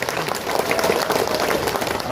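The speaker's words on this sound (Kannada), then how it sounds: "ಜೋರಾಗಿ ಚಪ್ಪಾಳೆ ತಟ್ಟಬೇಕು" Crowd at a rally on a protest march clapping, a dense continuous burst of applause filling the short stretch with no clear talk over it.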